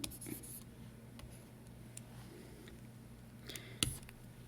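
A pen scratches faintly across paper as a chemistry word is handwritten, soft uneven strokes running throughout with a brief sharper tap near the end.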